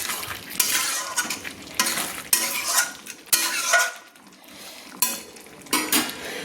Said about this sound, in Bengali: মাঝারি ফ্লেমে করে আবারও আমি দুবার নেড়ে নিলাম